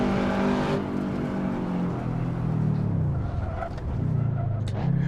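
A Subaru WRX STI in the Assetto Corsa racing game drives on a track. The engine note is loud and steady and stays close throughout, with pitch swells as it revs up and falls back between gear changes.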